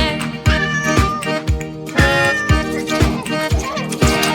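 Cat meowing in a children's pet song, a clear repeated meow over rhythmic music with a steady beat.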